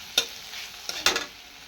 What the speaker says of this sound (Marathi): त्याला चांगलं मिक्स करून घ्यायचं आहे असं तेलामध्ये.